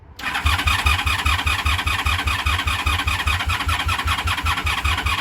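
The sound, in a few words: 1983 Honda Shadow VT750C motorcycle engine trying to start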